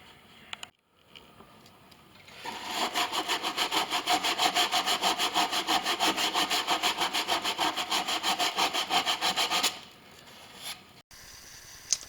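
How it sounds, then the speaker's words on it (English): Hand sanding along the wooden edges of a shelf made from a guitar, heard as a fast, steady back-and-forth rasp lasting about seven seconds, close and loud, with quiet moments before and after. "I went back and did a little bit of smoothing with some hand sanding, just to really make the edges a little bit more even"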